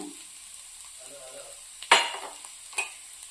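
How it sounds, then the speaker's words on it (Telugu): Carrot halwa with added ghee being stirred in a pan: a soft sizzle with two sharp scraping strokes of a spoon, close and fairly quiet. "ఇదైతే ఉడికిందండి ఇప్పుడు ఇంకొంచెం నెయ్యి యాడ్ చేసుకుంటాము"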